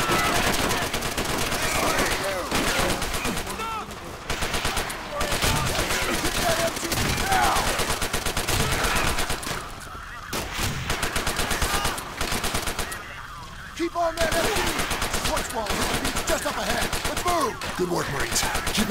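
Sustained machine gun fire in the video game Call of Duty: World at War, loud and nearly continuous rapid bursts with brief gaps, layered with other gunfire and voices calling out over the battle.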